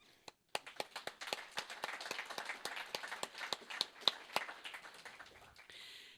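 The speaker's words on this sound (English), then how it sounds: "I'll give you a great round of applause." Sparse, distinct hand claps from a small audience at a Medal of Honor recipient event, individual claps ringing out in an irregular rhythm for several seconds, fairly close and not very loud.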